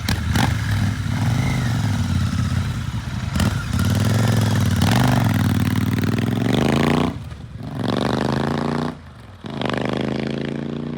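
A Royal Enfield Continental GT motorcycle engine runs steadily and loudly, its pitch rising and falling as it revs. Two brief dips near the end suggest gear changes or throttle lifts.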